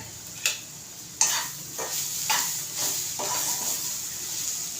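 Bitter gourd with kokum is stir-fried in a pan over a steady sizzle, with several distinct spatula scrapes and stirring knocks at an irregular rhythm, close and moderately loud, with no talking.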